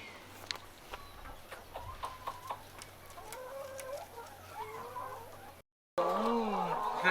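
Chickens clucking at an eco lodge farm in Guatemala, scattered soft clucks and calls at moderate distance over quiet outdoor ambience, with a brief cut followed by louder close clucking.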